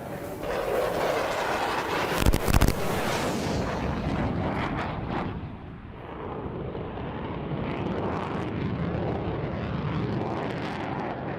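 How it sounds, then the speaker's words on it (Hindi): A Russian Su-57 fighter jet flies at the Dubai Air Show, a loud continuous roaring engine rumble with a sharp burst of cracks early on, swelling and fading as it passes. "Su-57 फाइटर जेट ने उड़ान भरी है दुबई एयर शो में"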